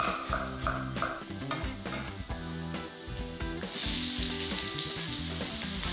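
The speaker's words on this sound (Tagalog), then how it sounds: "Una kong ginigisa yung bawang. At isinusunod ko kagad yung sibuyas." Garlic and then onion sautéing in hot oil for paksiw na pata, a steady crackling sizzle with occasional stirring scrapes, close and loud, rising to a sharper hiss near the end.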